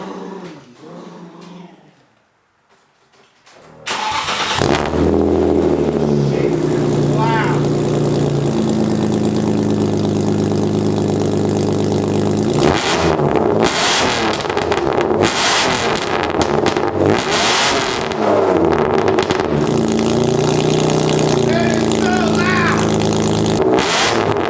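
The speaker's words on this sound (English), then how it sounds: "let's see how this ISR exhaust sounds" A BMW E36 fitted with a newly installed ISR exhaust starts up after a short pause, then idles with a deep, loud rumble and is revved repeatedly in bursts close by.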